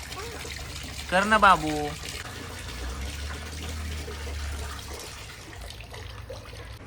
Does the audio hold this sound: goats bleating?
no